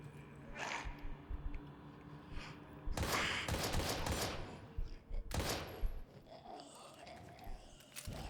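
Gunfire in the survival horror game Daymare: two loud, broad bursts of shots a couple of seconds apart among quieter ambient game noise, with a voice speaking nearby.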